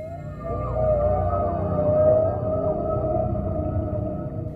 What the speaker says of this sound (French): Les baleines identifient sans aucun doute possible les sons de leurs semblables